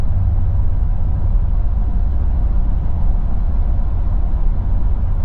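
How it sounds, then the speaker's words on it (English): A 2026 Ford F350 with the Power Stroke diesel under exhaust-brake engine braking gives a steady, heavy low rumble and drone that holds evenly throughout, with no voices. "But this exhaust brake is a beast."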